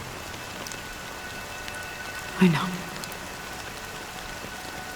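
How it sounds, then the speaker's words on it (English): Rain falling in the game Honkai: Star Rail, a steady soft patter throughout, briefly under a short spoken line near the middle. "But it's still raining."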